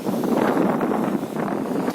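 Strong wind blows at the seashore, a steady rumbling gust buffeting the microphone with no voices.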